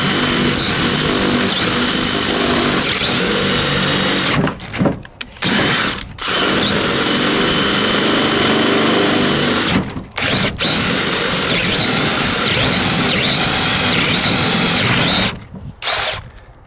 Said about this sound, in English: I'm not gonna push hard, I'm just gonna let the drill work.